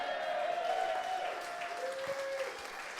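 Airplane passengers applaud inside the cabin, a steady patter of many hands clapping at moderate distance for several seconds, with a faint background tone underneath.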